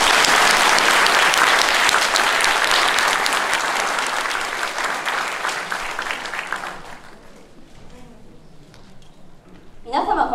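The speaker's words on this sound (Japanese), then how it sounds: "大きな拍手をお願いいたします。" Audience applause at a community event for a social-brightening campaign in Nakahara Ward, a loud, dense burst of clapping that fades over about seven seconds into quiet, with a brief sound at the very end.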